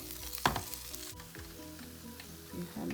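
Fish sizzles steadily in hot oil in a deep fryer, with a sharp burst of crackling near the start and then an even, close hiss with no voices.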